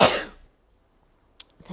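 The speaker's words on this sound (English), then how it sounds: "Sorry, I'm going to sneeze." One sharp sneeze bursts out up close, followed by near silence and a couple of small rustling sounds.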